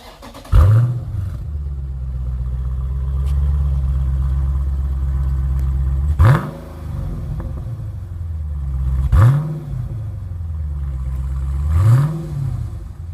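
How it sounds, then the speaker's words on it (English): Dodge Challenger Scat Pack Shaker with stock exhaust firing up and settling into a deep, loud idle, then blipped in four sharp throttle revs spaced a few seconds apart, each rising and falling back. "This is a stock exhaust."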